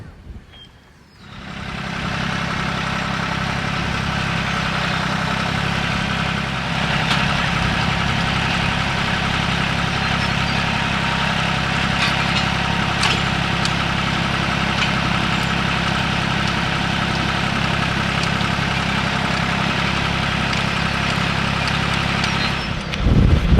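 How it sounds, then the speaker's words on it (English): A powered auger runs steadily throughout, a loud continuous engine drone while it digs a hole in the ground, with no breaks or voices. "we're gonna get the auger going and dig it out"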